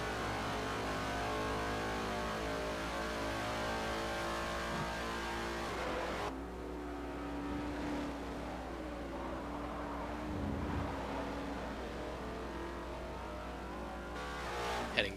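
Simulated race car engines scream through a Formula Forza R1 2013 French GP in the Forza video game. Steady high-revving tones shift pitch with gear changes, and several cars blend into a continuous roar.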